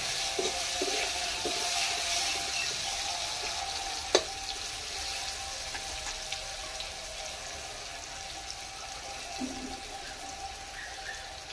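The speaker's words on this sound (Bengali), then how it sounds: "আলুটা ভাজতে ভাজতেই অর্ধেকটা সিদ্ধ হয়ে যাবে।" Potato pieces frying in oil with a steady, moderate sizzle and a few light clicks and stirring touches partway through.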